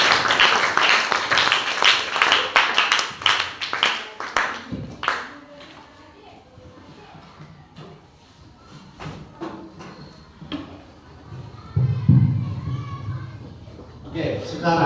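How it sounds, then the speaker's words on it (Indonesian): A sixth-grade class claps hands in a lively burst lasting about five seconds, followed by children chattering and an adult talking in the classroom. "Oke, tepuk tangan dulu."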